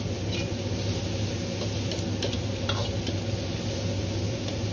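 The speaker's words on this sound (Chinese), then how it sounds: "一定要把腐乳炒出水分，炒至表面稍微有点焦黄" Bottle gourd stir-fried with fermented bean curd in a wok gives a soft continuous sizzle, with light scraping and ticking of a spatula against the pan now and then, close and moderate in level, no talking.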